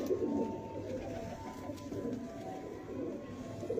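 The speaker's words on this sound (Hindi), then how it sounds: "ये भी अच्छा कबूतर है सियालकोटी कबूतर है" Soft, low cooing from a Sialkoti pigeon, repeated murmuring coos close by in a quiet setting with no talk over them.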